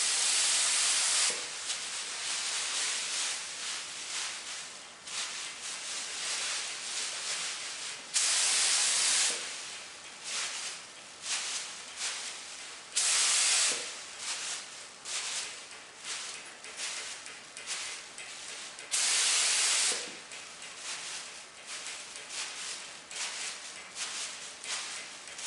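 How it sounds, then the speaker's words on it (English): Short bursts of an airbrush lightly spraying paint onto a guitar hiss on and off in an irregular rhythm, close and fairly soft, with quiet gaps between sprays. "I'm going to lightly spray it and then dab it on."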